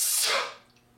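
A single long breath exhaled slowly during a pranayama breathing exercise, a close, airy rush that fades away within about a second.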